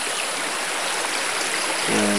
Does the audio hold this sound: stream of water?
yes